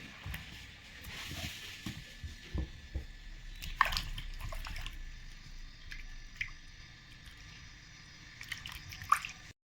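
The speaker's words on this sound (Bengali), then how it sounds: "এখন আমি পেঁপেটা ভালো করে ধুয়ে নেব।" Papaya being washed under water gives soft, close drips, squishes and small splashes, quiet and irregular, with a few sharper wet knocks scattered through.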